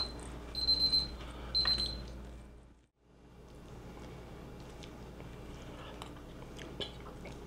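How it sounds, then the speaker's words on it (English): A kitchen timer goes off while a Texas chicken casserole is being cooked. It gives two short, bright electronic beeping bursts close by, then quiet kitchen room noise follows. "My timer telling me it's time to do this right here."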